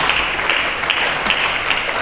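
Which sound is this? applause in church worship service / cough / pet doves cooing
applause in church worship service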